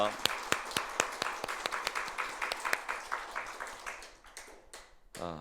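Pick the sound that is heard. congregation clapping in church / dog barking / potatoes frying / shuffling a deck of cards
congregation clapping in church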